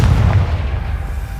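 Confringo spell explosion in Hogwarts Legacy, a single loud, deep boom that rolls out and fades over about a second, with no voices.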